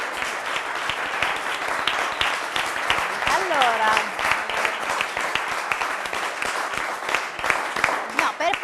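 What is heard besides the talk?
audience applause at quiz show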